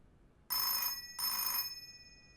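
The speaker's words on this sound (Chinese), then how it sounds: "接电话" A telephone gives two loud electronic rings in quick succession in a quiet room, the second ring fading out at the end.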